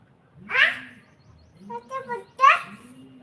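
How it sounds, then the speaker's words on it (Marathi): Pigeons give low, repeated cooing phrases while a voice chatters loudly over them in short bursts. "कबूतर कसे ओरडतात बघा"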